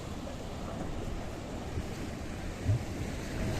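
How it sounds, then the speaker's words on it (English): Sea water washes against small piers along the Paphos promenade in Cyprus, a steady broadband rush of surf mixed with wind buffeting the microphone, with one brief bump near the end and no talking. "When you watch the water coming onto these little piers, it really is something special. It's just dancing, it's washing up all these piers."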